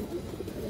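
An old-breed house pigeon gives a soft, low, continuous coo, brief and fairly faint against a quiet background.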